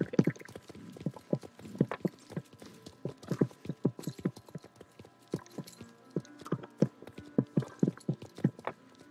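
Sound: horse hooves walking in video game

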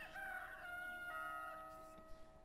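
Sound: rooster crowing in video game Professor Layton

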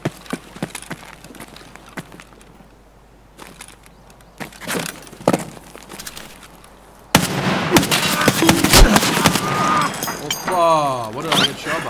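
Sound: gunfire shooting the player, Escape from Tarkov video game

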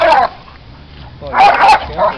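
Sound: dog barking

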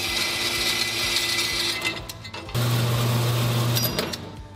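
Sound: bandsaw cutting a piece

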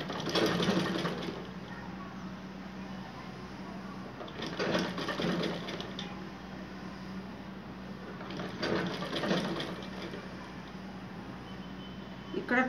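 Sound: sewing machine stitching trousers

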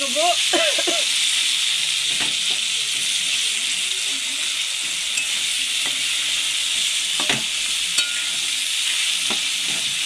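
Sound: stirring cumin powder into potatoes frying for aloo dum

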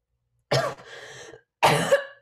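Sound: cough

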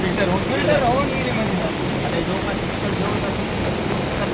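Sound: rainwater flowing from the farm into recharge pit

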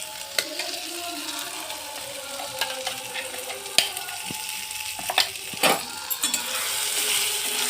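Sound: stirring pea paste with cardamom in hot pan

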